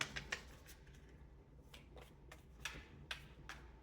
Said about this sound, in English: You see, I'm shuffling.